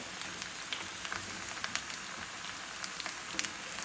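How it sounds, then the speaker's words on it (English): Potatoes frying in a hot skillet give off a steady, soft sizzle with faint crackles and pops, heard alone and fairly quiet. "I'm just throwing in the potatoes."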